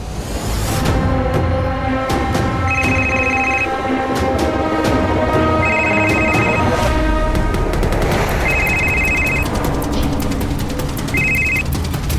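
A phone rings after a call is placed in a Crime Patrol crime drama scene, with four repeated bright ringing bursts under loud, dense dramatic music and sharp percussive hits.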